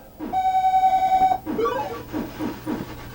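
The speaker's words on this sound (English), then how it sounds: "When you hear that beep sound, that means that there's a short." A multimeter gives a steady continuity beep on a shorted transistor in a Wells Gardner 6100 arcade monitor. One clear tone lasts about a second, followed by a few fainter clicks and rustles.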